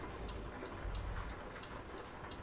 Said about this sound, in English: Listen to the rain. Lovely. Bouncing off the truck.